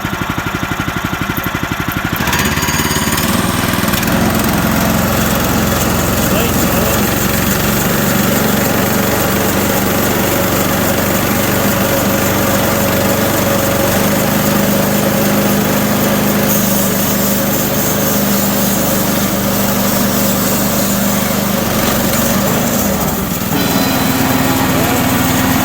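A small gas engine, pull-started with the choke then taken off, runs steadily and loudly at a high-pitched buzz on a Harbor Freight log-cutting machine, with a brief dip in pitch near the end and voices talking over it.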